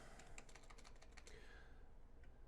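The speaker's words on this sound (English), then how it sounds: "And now I can actually type again." Quick, irregular keystrokes on a computer keyboard, a short burst of close, crisp clicks that thins out toward the end, set against a steady low room hum.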